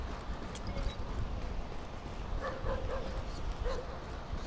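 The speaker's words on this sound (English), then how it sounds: "Watch out, dog." A dog in the video game Tom Clancy's The Division barks and yips a few times amid steady game ambience, moderately close but not loud, mixed with light background noise.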